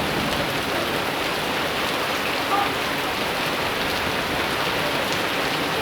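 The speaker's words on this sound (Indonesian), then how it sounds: "Dan hujan belum juga reda, masih disertai kilatan-kilatan petir." Heavy rain pours steadily over the Borobudur area, a dense, even roar of drops on surfaces that holds constant throughout with no pauses.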